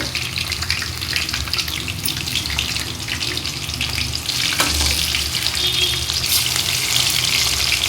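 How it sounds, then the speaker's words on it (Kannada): Kabab pieces fry in hot oil in a pan, a steady dense sizzle with bubbling crackle that swells slightly partway through, close and continuous with no voices. "ಕಬಾಬ್ ಎರಡು ಕಡೆ ಚೆನ್ನಾಗಿ ಫ್ರೈ ಆಯಿತು"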